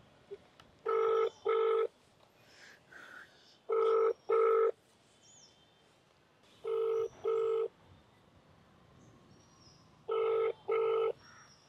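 Outgoing ringback tone while a delivery rider calls a customer: four paired double-beep rings, evenly spaced about three seconds apart, clear and fairly close over a quiet background.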